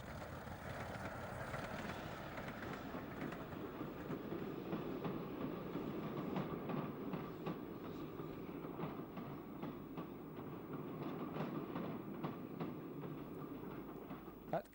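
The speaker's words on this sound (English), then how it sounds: "a northbound Carlisle to Edinburgh working enters the station, hauled by a Salter Type 2" A Sulzer Type 2 diesel locomotive hauls a northbound Carlisle to Edinburgh train into a station on the Waverley Route, a steady low rumble with clickety-clack from the wheels, heard at a moderate distance with no talking.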